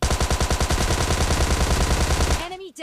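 Automatic gunfire from the video game PUBG Mobile Lite rattles in one loud, rapid, continuous burst of close shots for a little over two seconds, then cuts off abruptly.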